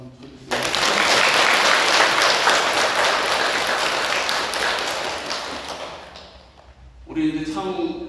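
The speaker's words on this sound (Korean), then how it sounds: "그래서 박수 한번 쳐주세요." Audience applause at a parents' Dharma gathering at a kindergarten, a dense burst of clapping from many people that swells quickly, holds for several seconds and fades, followed by a voice starting to speak.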